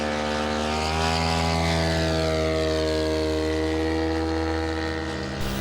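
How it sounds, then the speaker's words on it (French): A de Havilland DHC-2 Beaver radial-engine floatplane takes off at a model aircraft meeting at La Ferté-Alais, its loud, steady propeller drone with rich engine harmonics holding close and continuous before cutting off abruptly at the end. "On voit décoller ici le de Havilland DHC2 Beaver de Gilbert Voilier"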